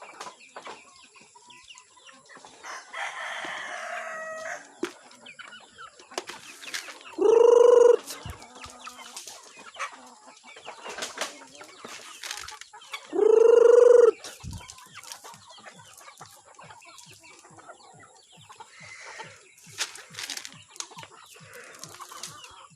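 Chickens cluck and scratch about in their coop while a rooster crows loudly twice, close up, with softer clucking and bird calls filling the gaps between the crows.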